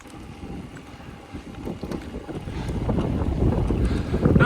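Steady wind buffets the microphone outdoors near the water, a rough rushing noise that grows louder toward the end with no voices over it.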